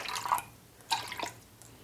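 Cold water poured into a measuring cup while preparing pumpkin pie cheesecake bars, heard as a few brief, quiet splashing and trickling bursts with short pauses between them.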